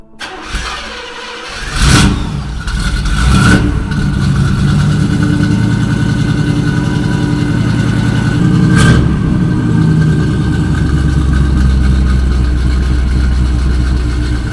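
A Chevy small-block V8 car engine cranks and catches, then settles into a steady, deep rumbling idle with a brief rev partway through.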